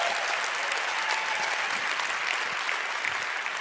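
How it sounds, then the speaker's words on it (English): Audience at a live speaking event applauding steadily, a dense, even wash of clapping from many hands throughout, fairly close and without voices. "Huge round of applause."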